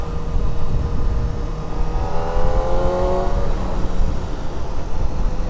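A 2024 Kawasaki Ninja ZX-4RR motorcycle engine runs steadily while riding, its note rising in pitch midway as it accelerates through bends, heard close and loud under strong wind rush, with no talking.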